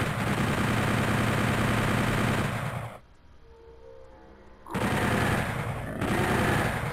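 Rapid automatic gunfire from a weapon in Doom 64 fills the first three seconds, drops away briefly to quieter game sounds, then resumes loud and continuous.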